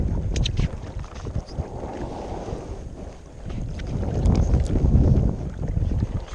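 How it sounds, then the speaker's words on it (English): Paddle strokes and water from an inflatable kayak on Lake Somerville, Texas, heard as repeated splashing and swishing under steady wind buffeting on the microphone, fairly close, with no talking. "Getting more of the feel of the paddle, getting some longer strokes in."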